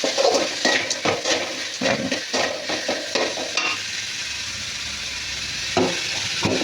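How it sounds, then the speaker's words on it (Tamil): Tapioca stir-fry with turmeric frying in a pan, close rhythmic scraping of a spatula over a steady sizzle for the first few seconds, then a quieter sizzle with one more stir near the end, no voices. "கொஞ்சமாக மஞ்சள், ஃப்ரை ஆகட்டும்."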